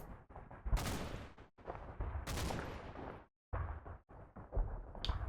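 Battle gunfire from the Combat Mission: Battle for Normandy wargame: dense, loud volleys of rifle and machine-gun fire with heavy bursts, broken by a brief silent gap before the shooting resumes.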